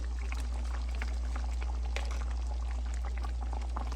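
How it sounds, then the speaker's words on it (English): Simmering gravy bubbling steadily in a pan as cooked beef patties are added, with a continuous close bubbling and sizzling over a low steady hum. "So I'm going to add these back to this gravy."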